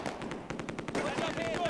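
Rapid MG42 machine-gun bursts in the video game Close Combat II, a dense rattling stream of shots close and loud, with a short whine trailing near the end.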